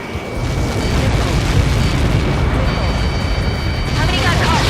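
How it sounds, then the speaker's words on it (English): A huge blast from a Helios projectile in the Ace Combat 7 aircraft game, a dense, loud, sustained rumbling roar that fills the whole clip, with faint voices beneath it. "How many got caught in that explosion?"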